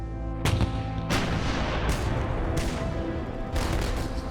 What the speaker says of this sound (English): US battleships start shelling the islands of Guadalcanal and neighboring Tulagi.